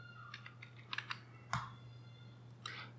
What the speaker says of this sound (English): So let's again enter the password